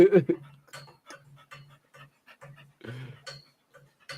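Dogs pant in quick, steady rhythmic breaths close by, with a short whimpering burst at the start and people talking quietly underneath.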